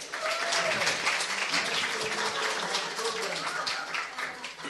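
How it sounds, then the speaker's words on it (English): An audience applauds a Shakespeare panel at a TESOL event, a moderate, steady patter of clapping hands heard from a distance, with faint voices mixed in underneath. "Let's give them a round of applause."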